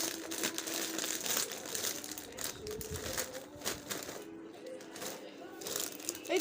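A bag of Chipsy potato chips crinkles and rustles as it is handled and torn open, with continuous close crackling and crumpling under a speaking voice.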